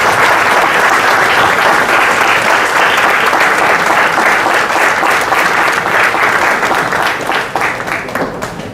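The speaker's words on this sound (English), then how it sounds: "A round of applause, please." An audience applauds after a panel discussion at a digital transformation conclave, with dense sustained clapping filling the room loud and close, holding steady before tapering off near the end.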